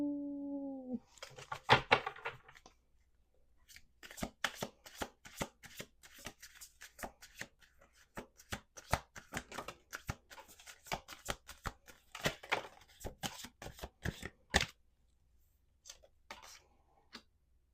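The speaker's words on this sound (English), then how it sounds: "We're going to do 2 more shuffles" A deck of cards is shuffled repeatedly during a tarot-style reading, giving rapid riffling bursts and sharp clicking snaps in several rounds with short pauses between them, close and crisp against near silence.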